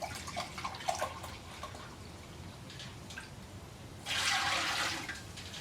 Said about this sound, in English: And then equal parts vinegar.